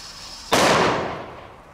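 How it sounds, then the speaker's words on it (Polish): A Thor firecracker imported from Italy, with a 0.30 g charge, goes off with a single sharp, loud bang close by after a quiet moment, followed by a long reverberant tail that fades away. "teścik petard Thor i Mini Thor"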